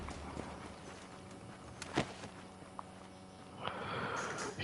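A horse in Red Dead Redemption gives a sharp, close snort amid soft hoof clops and shuffling, quiet apart from the single burst of breath.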